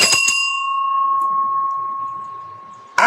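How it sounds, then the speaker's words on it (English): A hand bell is struck a few quick times, then its clear ringing tone sustains and slowly fades for nearly three seconds before another sharp strike at the end, with faint murmuring underneath. "I ring bell."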